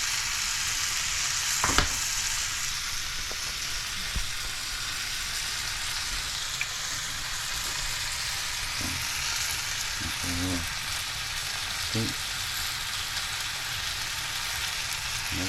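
Food sizzles steadily in a pan with garlic, salt and pepper while cooking in an RV, a soft even crackle with a few brief clinks and stirring knocks, no voices.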